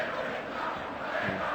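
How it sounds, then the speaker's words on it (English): Atletico Madrid fans in a stadium give a broad, distant wash of crowd applause and cheering, a steady roar for a moment with no distinct single claps. "Nice round of applause from the Atletico fans"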